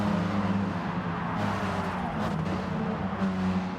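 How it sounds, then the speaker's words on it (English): Rally car engines in the racing game Gran Turismo Sport roar at a steady, moderately distant level, with the pitch shifting as the cars accelerate and change gear, plus brief bursts of gravel or tire noise. "let's just take a moment to appreciate the sound of these rally cars"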